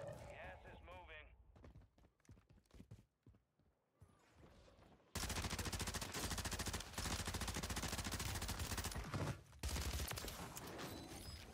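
Rapid bursts of gunfire in Warzone from a Tempus Razorback and Static HV loadout, loud and dense, under a player's talk, with quieter shots early followed by sustained heavy firing.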